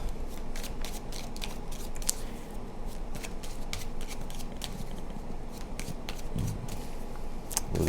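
Tarot cards shuffled steadily by hand, a dense run of crisp riffling and slapping card sounds, close and continuous with no talking.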